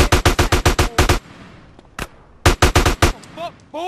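Automatic gunfire in GTA San Andreas comes in loud rapid bursts of about eight shots, a single shot, then another burst, with a voice briefly at the end.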